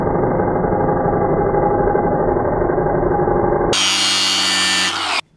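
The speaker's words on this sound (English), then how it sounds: "I'm just gonna run the grinder right here and we'll look at the sparks" Close and loud, a bench grinder whines steadily against a piece of steel during a spark test, running for several seconds before a brighter, harsher grinding burst and an abrupt stop.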